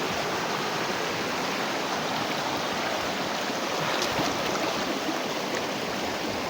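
Creek water flowing steadily at a stream crossing, a dense continuous broadband rush that stays close and even throughout with no voices.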